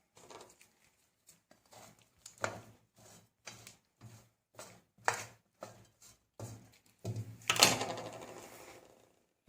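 Cauliflower gobhi fry is stirred in a microwave dish, producing a quiet series of irregular clicks and scrapes of a utensil against the dish, with one louder clatter near the end.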